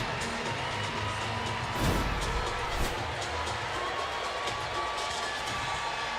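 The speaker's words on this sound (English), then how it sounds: "Sold out crowd is calling for it." A sold-out arena crowd at a women's college gymnastics meet between Oregon State and Air Force, cheering in a steady, dense roar throughout, with a couple of brief swelling bursts.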